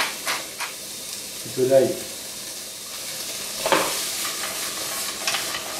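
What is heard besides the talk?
vegetables frying in a hot pan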